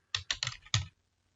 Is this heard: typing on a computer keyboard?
yes